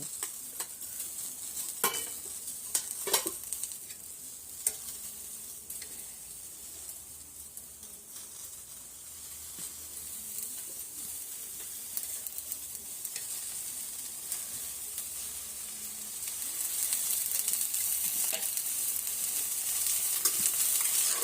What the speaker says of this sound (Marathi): आता भेंडी आपल्याला व्यवस्थित डाग पडूपर्यंत परतून घ्यायची आहे अशा प्रकारे आपल्याला भेंडी ही भाजून घ्यायची आहे